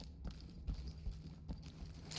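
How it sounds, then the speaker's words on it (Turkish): Soft, uneven footsteps in the tactical shooter Ready or Not, a few quiet thumping steps spread across a short stretch under low background hum, with no talking. "Ayak sesi duydum."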